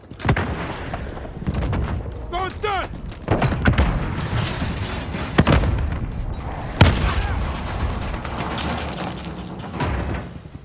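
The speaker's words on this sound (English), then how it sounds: "Allied precision airstrike incoming" Allied precision airstrike explosions in Call of Duty: Modern Warfare, with several loud booming blasts and sharp gunfire cracks scattered over a rumbling battlefield, joined by brief mechanical whines and radio chatter.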